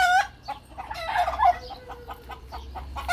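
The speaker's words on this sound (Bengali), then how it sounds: "এগুলো হলো টার্কি মুরগি দেখুন মাশাল্লাহ।" Turkeys and chickens on a date garden farm in Medina, Saudi Arabia, give several close, abrupt clucking and gobbling calls in short bursts over a low background hum.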